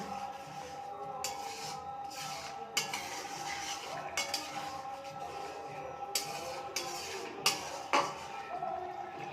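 A paneer curry with ghee and garam masala is stirred in a pan, giving soft scraping and intermittent metal clinks of a spoon against the pan over a faint simmering sizzle, with no talk.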